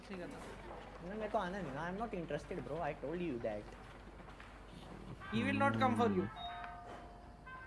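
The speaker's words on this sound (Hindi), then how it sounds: "घंटी बजा रहा भाई बाहर देख के आइए" A doorbell chimes a short melodic ring inside the video game Propnight, clear after a stretch of lively talk, with the voices fading as it sounds.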